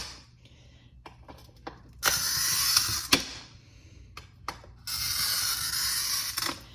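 Glass cutter scoring long, skinny, wavy lines in glass pieces for a mosaic, two sustained gritty scratching strokes of about a second each, separated by quiet handling clicks and taps, close by.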